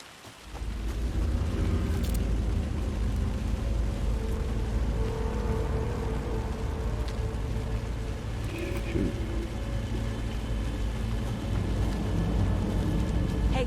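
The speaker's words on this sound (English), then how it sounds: "Wait a minute. The rain." Steady heavy rain in Alan Wake 2 pours continuously in the background, with a low thunder rumble beneath and no speech over the downpour.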